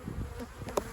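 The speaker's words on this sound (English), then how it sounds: "The bees are having a good time here." Honey bees buzz over an open hive frame of capped brood, a steady, close swarm hum with a sharp click near the end.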